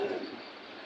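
A pigeon coos briefly at a pigeon market in Bangladesh, a soft, close, low call that fades within a second.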